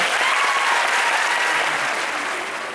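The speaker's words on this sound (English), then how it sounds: "Give him a round of applause" A crowd applauds loudly and steadily in a comic convention theatre, a dense wash of clapping that eases off slightly toward the end.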